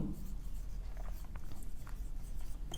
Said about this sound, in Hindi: मैं यहां पे लिख दूं,